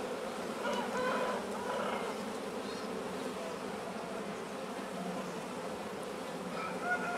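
Bees in a new swarm that has filled its nucleus hive with comb and nectar hum in a dense, steady buzz heard close up, with no talking.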